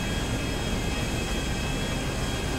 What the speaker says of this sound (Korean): 지금부터 이 비행기는 더욱더 높은 비트로 날아보도록 하겠습니다.